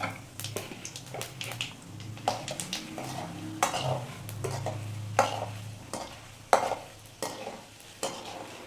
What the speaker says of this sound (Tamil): இப்போது நல்லா பொரிஞ்சு வரட்டும்.